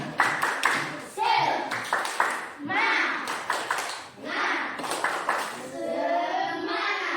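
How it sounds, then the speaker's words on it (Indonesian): A classroom of pupils does a patterned spirit clap for a group of classmates, repeated clusters of crisp clapping bursts interleaved with children chanting in unison, fairly close and lively. "Mari kita beri tepuk tangan untuk kelompok 3."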